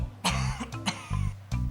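A few short, harsh coughs in bursts, close and fairly loud, with brief pauses between them.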